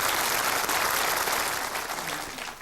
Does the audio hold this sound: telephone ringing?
no